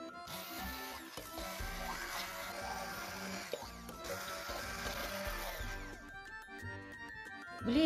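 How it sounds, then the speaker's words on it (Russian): An immersion blender whirs steadily for several seconds as it purees cooked pumpkin, its pitch wavering as it churns, then cuts off near the end. "Измельчаем тыкву погружным блендером."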